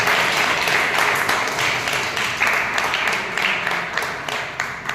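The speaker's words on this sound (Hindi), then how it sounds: "तालियां बजाने" A crowd applauds at a state darts championship ceremony in Mathura, the clapping dense and sustained at a strong, even level for several seconds.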